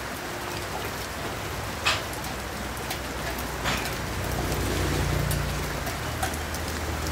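Steady rain pattering on the ground, a dense continuous hiss with occasional louder drops splashing close by.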